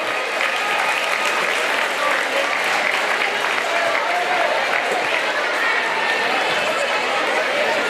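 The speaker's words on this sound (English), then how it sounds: "let's give a big round of applause for David Clark and Kelly Cook" Steady applause from a crowd at a high school basketball game between the Wildcats and Logan County, continuous and fairly distant across the whole stretch, with a bit of chatter mixed in.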